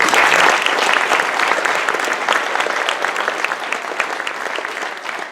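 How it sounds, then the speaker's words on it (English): A graduation audience gives the honored class a round of applause, a loud, dense, sustained clapping that fills the hall and tapers slightly toward the end. "Let's give them all a round of applause."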